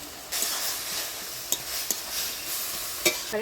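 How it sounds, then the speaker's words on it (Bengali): Khesari greens sizzle steadily in a hot pan with salt and green chilies while a spatula stirs them, giving a continuous close frying hiss broken by a few sharp scraping strokes. "এখন শাকটা লবণ দিয়ে নাড়াচাড়া করে নিলাম"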